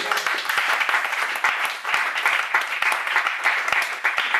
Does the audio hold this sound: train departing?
no